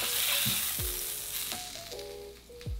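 A thin steak sizzles in a pan beside chorizo, making a close, steady frying hiss with small scrapes and pops throughout.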